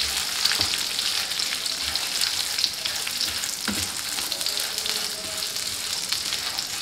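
Butter frying and sizzling in a hot pan with sweet corn and jaggery as it is stirred and mixed, a steady close crackle with occasional scraping knocks and no talking.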